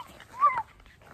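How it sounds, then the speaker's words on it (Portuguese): A single short, high dog whimper or yip, faint against a quiet background. "Olha o cachorro do vizinho."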